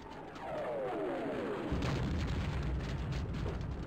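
Mortar explosions in Half-Life: a descending whistle over the first couple of seconds, then a heavy, sustained rumbling boom of blasts and debris that stays loud to the end, with no voices.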